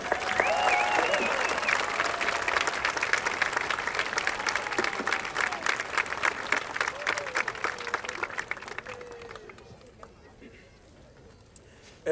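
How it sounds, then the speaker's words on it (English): Methuen High School's graduating class applauds as a dense, loud crowd clapping sustained for roughly nine seconds before fading, with a few cheers mixed in. "please give yourselves a round of applause for being fantastic and successful variants"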